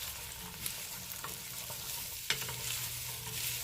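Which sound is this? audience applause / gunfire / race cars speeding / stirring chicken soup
stirring chicken soup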